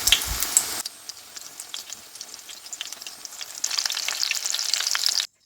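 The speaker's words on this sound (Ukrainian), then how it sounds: "обсмажую на середньому вогні з обох сторін" Steady crackling sizzle of zucchini slices frying over medium heat in a hot pan, with a brief louder burst at the start and the spitting growing livelier toward the end.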